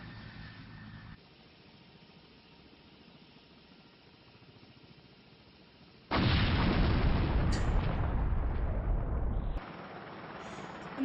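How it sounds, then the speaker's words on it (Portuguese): Heavy, rumbling explosions from the video game Resident Evil remake roar loudly, a sustained burst of booming blasts after a quieter stretch of low background noise. "Eu não aguento essas explosões"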